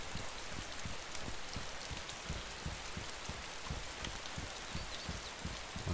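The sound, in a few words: rain in the video game DayZ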